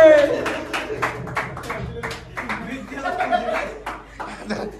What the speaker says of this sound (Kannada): ಅವರಿಗೆ ಜೋರಾದ ಚಪ್ಪಾಳೆಯಿಂದ ಸ್ವಾಗತಿಸಿ